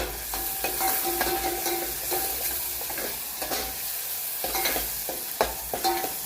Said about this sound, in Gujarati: ટમેટા એકદમ ચડી જાય ત્યાં સુધી એને તેલમાં સસડાવવાના છે.